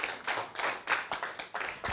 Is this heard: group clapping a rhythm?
yes